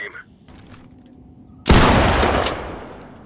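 Gunfire in the tactical shooter Ready Or Not: after a quiet stretch with faint distant pops, a sudden loud burst of shots erupts close by and rings out as it slowly decays.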